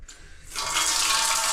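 Shower water switches on and runs, a bright hissing spray that rises abruptly after a brief quieter moment and continues steadily nearby.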